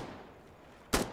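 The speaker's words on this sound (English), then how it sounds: "I hear a sniper. It's coming from our left." A single sharp sniper rifle crack from Insurgency: Sandstorm bursts out near the end after a quiet stretch, loud and abrupt with a brief tail.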